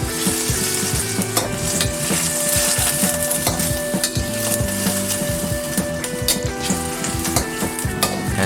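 Ingredients for Malaysian herbal bak kut teh stir-fried in a pan, with continuous loud sizzling and frying under repeated scraping and clattering strokes of a spatula against the pan.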